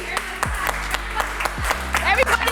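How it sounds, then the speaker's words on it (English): Clapping from a small podcast audience at the end of a recording, a run of sharp claps over a low steady hum and faint tonal background. "Everybody clap. Everybody better clap."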